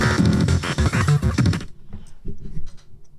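A track plays loud and dense for about a second and a half of busy electronic music with bass, then drops to a quiet, sparse tail.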